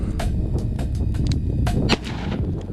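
A Ruger GP100 .357 Magnum revolver fired double action with MagTech rounds, a quick string of loud booming shots echoing outdoors over a heavy low rumble, one sharp report standing out near the end.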